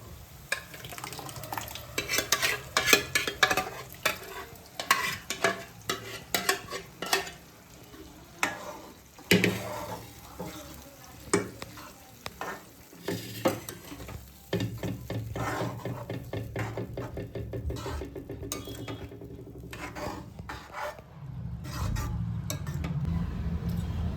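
Dal tipped into fried masala for dhaba-style dal fry and stirred, with clattering spoon-on-pot scrapes and knocks over a steady sizzle that swells and grows louder toward the end.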